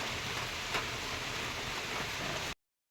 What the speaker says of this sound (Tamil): சவுண்டு கேட்கும்னு நினைக்கிறேன் உங்களுக்கு, மழை தூடுறது